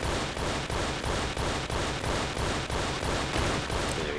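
Dense, rapid gunfire in the video game Tomb Raider, loud and continuous in tight repeated bursts across the whole moment, with no voices over it.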